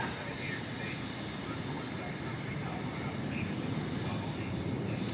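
A jet airliner on approach to runway 17 left at DFW Airport, a broad, steady engine roar heard from about a mile away in hazy conditions.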